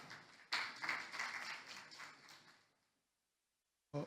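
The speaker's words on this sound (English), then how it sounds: "Please, another round of applause" A conference audience in a hall gives a round of applause, a faint, even patter of clapping for about two seconds that fades into silence before a brief sound returns at the end.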